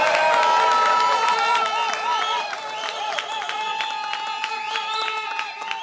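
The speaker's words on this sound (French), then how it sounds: "Si vous pouvez l'applaudir aussi." Crowd at a political party bureau installation ceremony applauds and cheers with whoops and shouts, a loud mass of clapping and voices sustained throughout.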